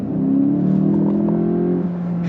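A Volkswagen Golf 8 GTE, 2025 model, revs its engine nearby in a loud, steady drone that climbs slightly in pitch and holds for about two seconds before easing off.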